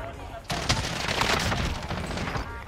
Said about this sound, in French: il s'est pris une balle de snipe